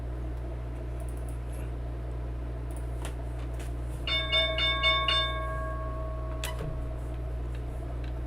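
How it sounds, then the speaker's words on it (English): A stock market closing bell rings out over a steady low hum, a run of bright repeated tones starting midway and trailing off after a few seconds, followed by a brief knock. "we got 10 seconds to the closing bell"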